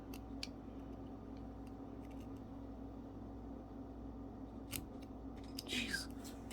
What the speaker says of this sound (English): Make another cut here.